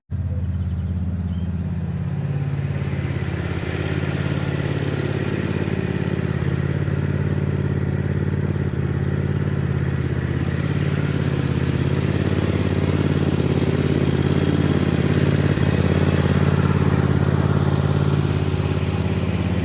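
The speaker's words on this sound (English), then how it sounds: "I couldn't not take the opportunity to give the little red tractor a run" A small red tractor's engine chugs steadily at idle, a low mid-pitched rumble running continuously and close by without any talking.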